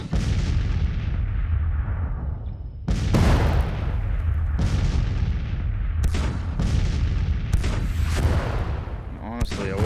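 Massed Civil War musket volleys and cannon fire in the strategy game Grand Tactician, dense continuous rumbling gunfire with several loud booming bursts standing out, a voice talking over it.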